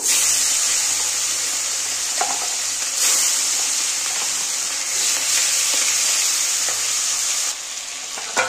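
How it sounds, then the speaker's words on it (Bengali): Shankar fish (stingray) fry in hot oil, a loud, dense, continuous close sizzle with occasional stirring taps, heard alone without talk. "তেলটা গরম হয়ে গেছে, এবার আমি মাছগুলো ভেজে নেব।"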